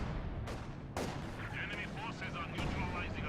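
Artillery barrage from the Company of Heroes 2 video game: several sharp booming impacts land in quick succession over a dense bed of battlefield noise, with commentary running under the explosions.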